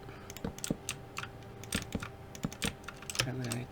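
Computer keyboard typing while building a house in Minecraft: irregular close clicks and taps in small bursts and single keystrokes, with a short spoken sound near the end.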